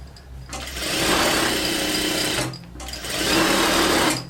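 A domestic sewing machine set to a long stitch runs in two sustained bursts of rapid whirring, close by, with a brief pause between them.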